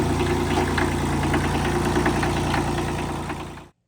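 A 1977 Kubota B7100 compact tractor's small diesel engine runs steadily at close range, a continuous rough, knocking chug with mechanical vibration that holds for nearly four seconds before cutting off abruptly.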